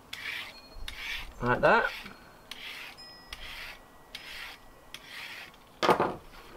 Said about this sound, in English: Now a carrot with a normal peeler,